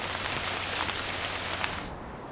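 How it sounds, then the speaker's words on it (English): Heavy tropical rain falls in the Corcovado rainforest as a dense, steady hiss with no voices, cutting off near the end. "Over 200 inches of rainfall saturate this tropical Eden each year, making Corcovado one of the wettest places on Earth."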